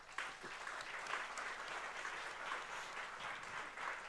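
An audience claps steadily for about four seconds, a dense, even patter of many hands in a room, moderately close and without cheering.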